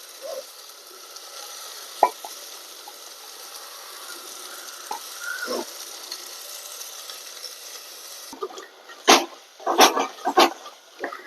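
Ground tomato paste fries in a pan for a tuna fish curry made without coconut, hissing in a soft steady sizzle with occasional clinks. A dog barks loudly several times near the end.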